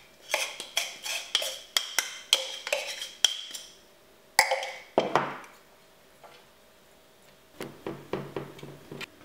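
Speculoos biscuit base pressed down into a cake frame, a run of sharp tapping knocks in quick rhythm, then a pause, a scraping burst, and more softer taps, close by with no talking.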